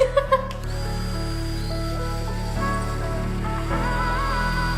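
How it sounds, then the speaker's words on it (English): A power drill whines steadily and loudly for several seconds after a few brief knocks, its motor pitch shifting slightly as it bores into a house wall. "it's my turn to drill into our house"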